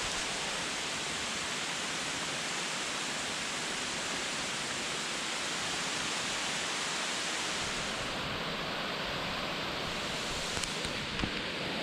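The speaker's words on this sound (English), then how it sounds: "I've actually found one of the waterfalls I was looking for without knowing it was actually on this trail." A jungle waterfall at Palenque, Mexico, gives a steady, dense roar of falling water that stays close and unbroken throughout, with no voices over it.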